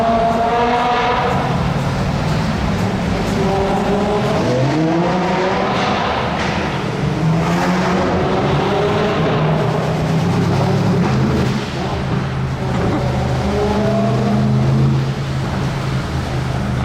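A Ferrari 812 Competizione Aperta engine roars loudly and continuously at high revs, very high-pitched, sweeping up and down through repeated revs, with no clear talking.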